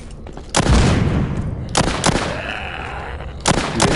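Rapid, loud bursts of Gatling gun fire in The Walking Zombie 2 zombie shooter game, with sharp blasts at the start of each volley and a sustained roar between them, coming in roughly three surges.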